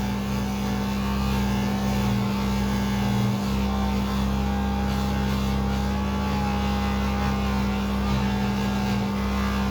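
A motorized soft polishing wheel buffs a bent estate tobacco pipe, a steady, loud, close motor whir with a low droning hum that runs unbroken throughout, with only slight shifts as the pipe is pressed against the wheel.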